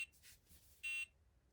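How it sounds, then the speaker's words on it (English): A Nintendo Game & Watch Popeye widescreen handheld sounds its alarm with a loud, steady electronic beep that lasts about a fifth of a second, after some faint softer chirps. Close by, with no talking. "The alarm goes off."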